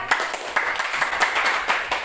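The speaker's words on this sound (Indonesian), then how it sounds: "Dan tepuk tangan untuk kelompok 2 ya." A room of students applauds a group of classmates after their presentation in a classroom, with steady clapping of moderate loudness and no speech over it.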